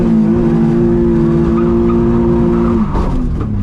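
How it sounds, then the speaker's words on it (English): A BMW E46 engine screams at a steady, sustained high rev, held flat out while drifting on a street, loud and close, with a tire-squeal-like rasp and shifting tone near the end. "Hold it flat out, drop the clutch, turn the wheel. Flat out."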